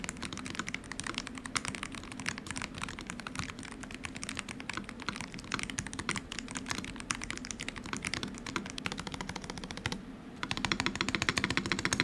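Continuous quick typing on an Air60HE low-profile Hall effect keyboard, a dense stream of soft, close key clicks at a steady pace with a brief pause near the end.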